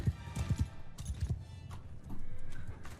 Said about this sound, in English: Horse archers begin the charge. Riders! Cavalry.